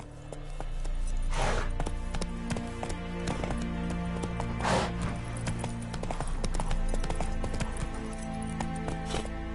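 Roach the horse galloping in The Witcher 3, rapid rhythmic hoofbeats with jingling tack and occasional louder thuds, steady and close throughout.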